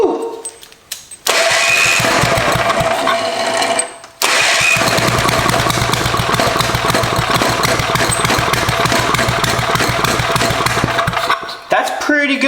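A Tecumseh four-stroke engine found in a barn cranks, catches and runs loudly and steadily, cutting out briefly and restarting, with a steady drone close by.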